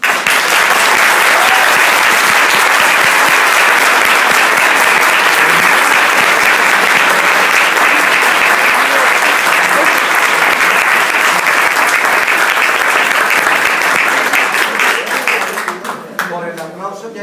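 An audience applauds after a speech at a legal speaking contest, with loud sustained clapping that fills the room and fades near the end.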